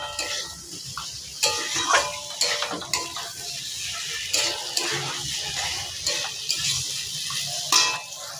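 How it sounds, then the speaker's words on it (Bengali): Potato and soybean chunks fry in a thick spice masala, giving a sputtering sizzle broken by repeated spatula scrapes and knocks against the pan in an irregular rhythm, close and fairly loud. "এইবারে আলু আর সয়াবিন দিয়ে আর একটু ভালো করে কষিয়ে নেব।"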